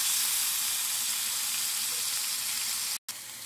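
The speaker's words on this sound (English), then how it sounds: "Get them browned and get that flavor locked in on the stove." Oxtails browning in a pan on the stove, a steady close hiss of sizzling fat, briefly cut off near the end.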